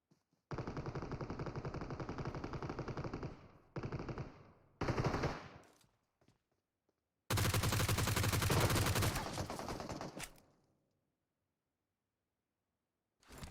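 Gunfire in PUBG Mobile comes as several loud, close bursts of rapid automatic fire separated by short gaps, with one longer sustained burst in the middle.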